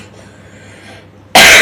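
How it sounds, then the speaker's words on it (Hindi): After a quiet pause, a single short, sharp cough bursts out loudly at the end. "देखो खांस भी रही हूँ"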